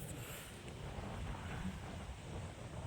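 Strong wind blows steadily across an open cumin field in a Gujarat village, a broad continuous rushing roar that buffets the microphone with no voices.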